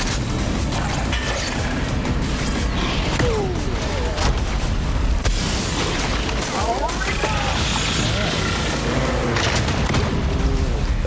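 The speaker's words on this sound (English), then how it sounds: "It's quasar grenades, so you'll see the electricity coming." Quasar grenade explosions in Borderlands 3, with dense booms and crackling electrical bursts layered over constant gunfire and hectic combat noise throughout, loud and continuous.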